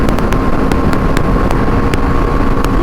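A BMW G310R motorcycle runs at top speed, a loud, constant engine roar buried in heavy wind rush. Faint sharp ticks recur throughout.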